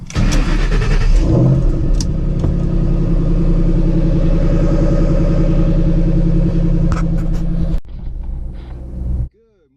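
A Ford GT500 engine cold start: it cranks and catches, then idles loudly with a rough rumble and revs before cutting off abruptly near the end.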